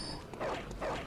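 Two short barks from a hostile dog in Bloodborne, each a brief mid-pitched burst about half a second apart, heard over dark game ambience with no talk.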